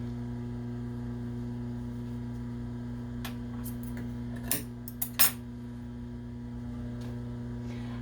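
Scissors cut a length of bias tape while sewing a duck hooded towel, a few quick close snips over a steady low electrical hum in a quiet room.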